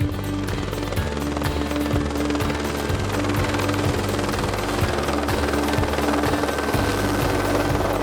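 Loud helicopter overhead on the New Zealand coast, rotor blades thumping in a fast steady rhythm over a constant engine whine.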